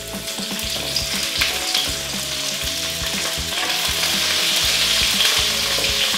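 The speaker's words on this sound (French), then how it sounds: "on va d'abord faire revenir l'échalote dans l'huile bien chaude" Shallots frying in very hot oil for a balado sambal, a steady dense sizzle running throughout at close range with light stirring clatter and no talking.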